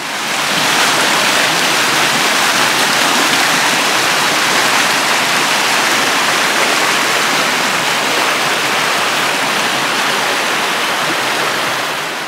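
Rushing rapids on a small creek give a loud, steady roar of churning water close by, with no voices.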